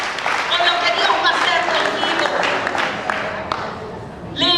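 Applause from a church congregation during a sermon fills the space, steady clapping under a loud voice speaking Spanish throughout.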